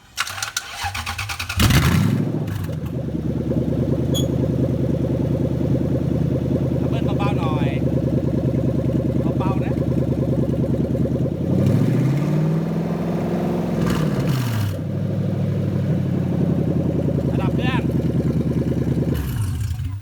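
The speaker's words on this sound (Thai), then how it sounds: "อ่ะเดี๋ยวจะติดเครื่อง 3UZ ให้ฟังนะครับ" A Toyota 3UZ V8 engine on a first-start test with basic wiring cranks briefly, then catches and settles into a steady, loud, close idle that holds with a slight dip in tone midway, while a voice talks over it.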